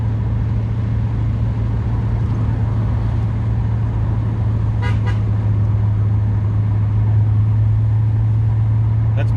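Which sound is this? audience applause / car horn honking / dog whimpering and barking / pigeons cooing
car horn honking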